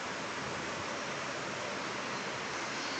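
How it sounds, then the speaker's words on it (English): An aircraft splashes through a puddle on a wet airport runway, giving a steady, loud broadband wash of spray and water that holds without a break. "A little bit of a puddle. Splashing through the water."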